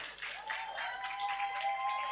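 Faint applause from an audience at a cultural book launch event: soft, even clapping heard at a distance, steady for about two seconds, with a thin tonal hum underneath.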